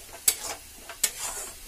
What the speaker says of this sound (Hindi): अब मैं इसे 5 मिनट तक फ्राई कर लूँगी, मीडियम फ्लेम पे 5 मिनट तक फ्राई कर लीजिएगा।